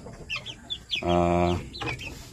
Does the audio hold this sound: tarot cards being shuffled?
no